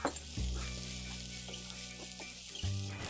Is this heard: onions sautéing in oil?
yes